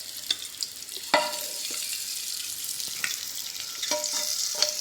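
Fried eggs scooped out of hot oil in a pan into a bowl for mutta curry, with steady sizzling and frying throughout and several sharp clicks and scrapes of the spoon against the pan.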